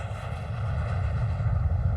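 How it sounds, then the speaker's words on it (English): A steady, droning airplane engine in flight, a continuous low hum with a faint buzzing overtone that holds level throughout with no talking. "Douglas was on the next plane to Buffalo"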